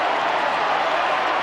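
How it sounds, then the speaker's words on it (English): Crowd at an Australian football match, Footscray versus Collingwood, roaring in a loud, sustained wash of cheering with no break. "Listen to the crowd."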